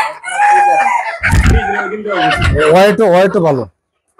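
Native desi chickens on a farm cluck and crow loudly and near, with a rooster-like call running through most of the stretch. People talk over the birds, and the sound stops abruptly at the end.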